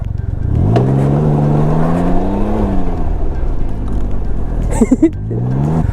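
Engine of a 2020 Can-Am Ryker three-wheeler as it reverses, a loud close idle that rises and falls in pitch, with a brief squeaky mechanical chirp near the end.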